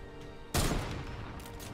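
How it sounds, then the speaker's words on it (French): Burst of gunfire in the Fortnite video game, a sudden loud volley that cuts in partway through and trails off, standing alone without talk. "À gauche aussi, ça tire."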